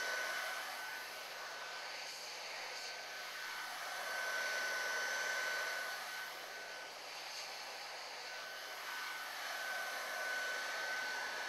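A steady hot-air blower hums continuously at low level, its tone slowly swelling and fading as heat is applied around a molded part to shrink it onto an adapter; no voices.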